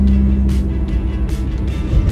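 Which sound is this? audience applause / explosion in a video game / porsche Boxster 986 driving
porsche Boxster 986 driving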